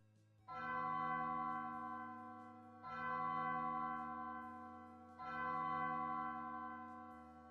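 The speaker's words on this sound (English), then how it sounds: "you stay in silence until 3 ominous church bells ring out." Three slow, deep church bell strikes from a video game, Undertale, toll one after another, each long and resonant, ringing out and fading into a quiet hum.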